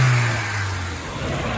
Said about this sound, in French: On fait un petit bruit niveau moteur.